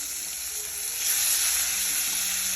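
Tomatoes sizzle steadily in hot oil, a close, continuous crackling hiss with no voices.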